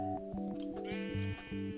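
A game sheep bleats several times in quick succession, loud and close, each bleat a short nasal wavering call with brief gaps between them.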